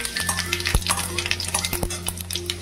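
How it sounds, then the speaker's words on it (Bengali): Dried red chilli and panch phoron spices sizzle in a small amount of hot oil in a pan, a steady close crackle punctuated by sharp clinks and scrapes of a spoon stirring against the metal. "এবার আমি একটা শুকনো লঙ্কাকে ফাটিয়ে দিয়ে দিলাম 5 ফোড়ন।"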